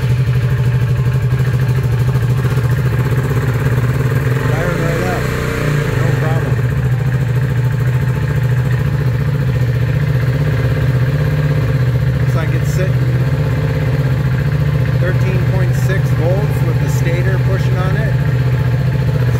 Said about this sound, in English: I'll let this run for, I don't know, 15 minutes or so, and then shut the bike off